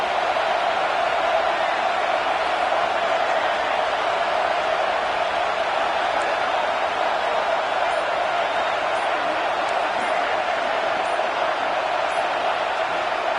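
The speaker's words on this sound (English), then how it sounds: "This crowd knows when to bring it." Loud, sustained roar of a packed college football stadium crowd, a steady unbroken wall of noise for the whole stretch with no clear individual voices or pauses.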